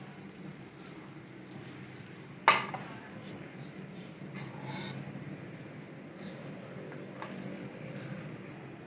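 One sharp metallic clank of a serving spoon against a pot as chana pulao is scooped into a dish, followed by a few faint scrapes over a low steady background hum, with no talking.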